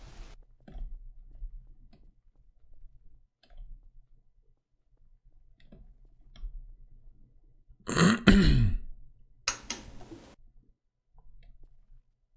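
A person clears their throat and coughs in a sharp burst, followed by a second shorter bout, over a quiet background with faint clicks.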